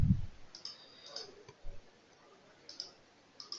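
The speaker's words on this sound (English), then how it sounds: "you double click on the marker" A computer mouse double-clicks on a chart marker in an Excel spreadsheet: a few faint, sharp clicks spaced across a few seconds against a quiet room, with no one talking.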